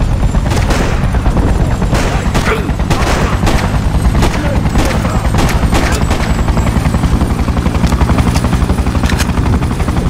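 Soldiers' gunfire in the Freedom Fighters video game, a loud, sustained barrage of rapid shots and bursts over a steady thudding rotor-like drone that persists throughout.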